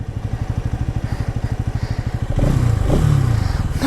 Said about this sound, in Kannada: ಫಸ್ಟ್ನೇ ಗೇರಲ್ಲಿದೆ ಗಾಡಿ.